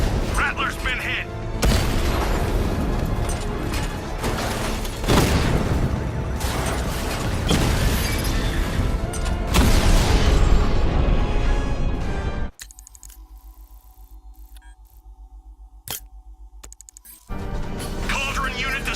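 Heavy explosions destroying an enemy Cauldron unit in Batman: Arkham Knight, a long loud barrage of booms and crashes that cuts abruptly to quieter game ambience before resuming.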